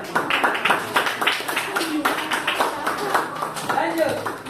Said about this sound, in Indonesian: tepuk tangan buat perwakilan kelompok